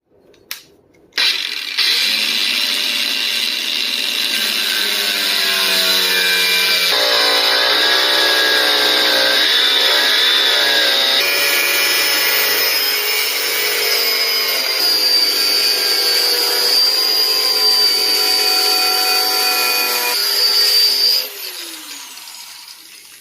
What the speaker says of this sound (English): let's go ahead and finish this entire project up by getting this cut out, drilled, shaped, everything